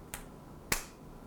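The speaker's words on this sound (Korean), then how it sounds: "박수 칠까요?" Two sharp, isolated hand claps ring out in a quiet studio, about half a second apart, the second one louder, with near silence around them.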